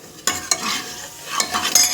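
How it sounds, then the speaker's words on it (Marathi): Ground masala sautéed in oil for a Maharashtrian matki dish, a few quick spatula scrapes over soft sizzling, close and with no voices. "मसाला मस्त परतून घ्यायचा बघा किती छान मसाला दिसतो बघा तेल सुटेपर्यंत परतून घ्यायचं आहे"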